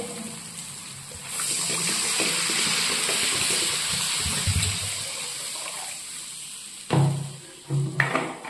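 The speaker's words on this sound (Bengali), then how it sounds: "এইবার জল দিয়ে দেবো" Water poured into a cooking pot over a spiced, fried masala in a home kitchen, a rushing hiss rising into steady sizzling and bubbling, followed near the end by a few louder clattering splashes and pot knocks.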